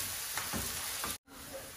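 Onion with garlic paste frying in a pan, a close, steady sizzling hiss with a few stirring scrapes, briefly cut off before resuming.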